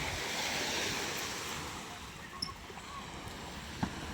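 Sea waves wash steadily along the shore at the Tanza, Cavite fish terminal, a continuous soft surf rush with wind noise and faint scattered clatter in the background.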